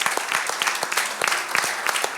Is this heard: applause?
yes